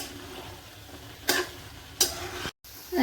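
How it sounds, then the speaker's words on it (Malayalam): Beef fry for a Kerala-style dish being stirred in a pan, with a soft steady sizzle under a few sharper scraping strokes of the spoon, fairly quiet throughout. "നമ്മൾ ഇളക്കി കൊടുക്കണം അല്ലെങ്കിൽ ഇത് അടിക്ക് പിടിക്കും"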